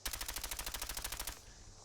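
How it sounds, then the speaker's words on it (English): A Thompson submachine gun in Fallout 4 fires a rapid, even burst of about a dozen shots, sharp and close, then stops and leaves a faint tail. "Thompson submachine gun vanilla game sounds"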